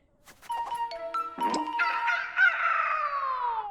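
Chicken calls ring out, a mix of sharp clucks and a drawn-out crowing cry, fairly close and clear against a quiet background.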